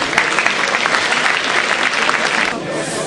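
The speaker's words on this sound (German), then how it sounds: "das hat schon mal einen großen Applaus verdient" An audience at the opening ceremony of the 14th International Neckar-Open chess tournament applauds, a dense, steady wash of clapping hands that fills the room, slightly thinning toward the end.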